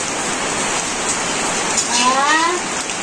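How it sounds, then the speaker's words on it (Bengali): Rain falling in a village during cooking, a soft steady hiss throughout, with a brief voice-like tonal sound rising near the end. "বৃষ্টি নামছে অধরে"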